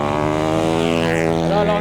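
A racing motorcycle on the Carole circuit passes close and loud, its engine holding a strong steady tone that shifts slightly as it goes by.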